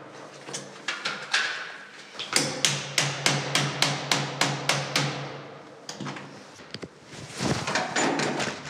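Lock being broken open on a door with a screwdriver and pliers by a locksmith: a rapid series of about a dozen sharp metallic knocks and strikes, close and loud, with scraping and rattling before and after.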